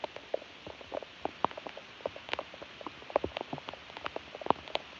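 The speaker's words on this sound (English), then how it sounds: "And yep, everything's getting rained on." Rain falls outdoors on a ball field in rural South Dakota during metal detecting, a steady patter of scattered drops tapping irregularly on nearby surfaces with no talk.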